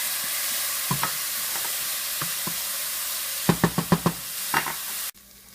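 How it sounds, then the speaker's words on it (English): Onions and garlic fry in a saucepan with a steady, even sizzle, while a utensil scrapes and taps the pan in a short cluster of stirring knocks near the end. "add in the onions and the garlic to your saucepan. And we're going to cook these together until they are golden brown."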